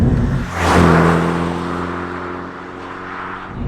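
A loud, throaty Mini Cooper S JCW GP3 engine, heard from inside the car, drones steadily up close, swelling briefly before settling into a sustained rumbling hum.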